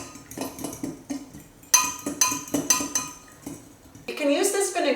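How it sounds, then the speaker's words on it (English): Utensil clinking and scraping against a dish while honey dijon vinaigrette ingredients are mixed, a series of close, bright taps and scrapes with short pauses, ending in a brisker clatter. "Now let's mix all these ingredients together."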